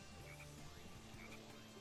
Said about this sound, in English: The jungle where the main aesthetic is these frogs that make it rain.